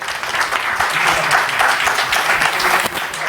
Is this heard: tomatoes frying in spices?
no